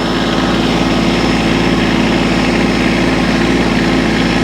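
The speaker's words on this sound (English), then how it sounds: "I really like this old Kubota tractor." An old Kubota tractor's diesel engine idles steadily and loudly, a constant low chugging throb with no one speaking.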